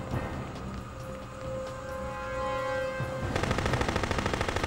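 Rapid automatic Uzi fire in the action game Jet Li Rise to Honor, a dense steady rattle that grows louder and more tightly pulsed toward the end, with a sustained tone running beneath it for a while.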